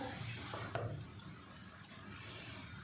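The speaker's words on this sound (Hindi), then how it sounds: "इसे मिक्स करेंगे अच्छे से।" Carrots for gajar ka halwa are stirred in a small pot, giving a steady scraping, shuffling texture with a couple of sharp metallic clinks of the spoon against the pot.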